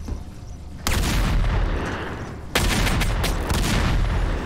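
Gunfire in the video game Dysterra, heard as two abrupt loud onsets of dense, sustained booming and crackling shots that continue at high level after each start.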